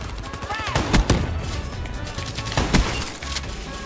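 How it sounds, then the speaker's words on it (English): Gunfire in an online shooter, a wartime-themed game: loud sharp shots crack at about one and two and a half seconds amid busy in-game noise, with a player voice faintly present. "Cheeky little shot out the window there."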